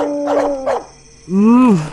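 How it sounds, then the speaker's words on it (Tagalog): Dogs outside at night in a remote rural farm setting, first giving a couple of short yelping barks, then a long rising and falling howl, fairly loud and close with no talking. "Ang ingay ng aso sa labas."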